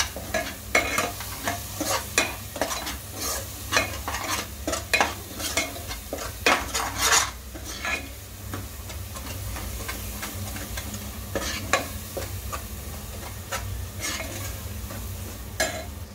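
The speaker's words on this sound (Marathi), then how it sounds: "आपण हे चांगलं तेलामध्ये परतून घेऊया" Bhogichi bhaji vegetables stir-fried in oil, with a steady sizzle under repeated scraping and clinking of a spoon against the pan, close and continuous.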